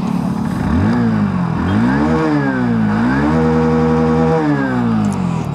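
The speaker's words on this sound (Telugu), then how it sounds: "ఫ్రెండ్స్ ఒకసారి ఎగ్జాస్ట్ సౌండ్ వినండి" A Hero Passion+ motorcycle engine revs repeatedly, its exhaust note rising and falling in several throttle blips over a steady idle, loud and close.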